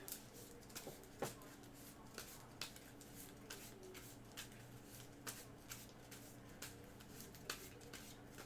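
A deck of game cards for the Cthulhu: Dark Providence board game is shuffled by hand, quiet, close riffling and soft slaps repeating in irregular bursts against a faint background.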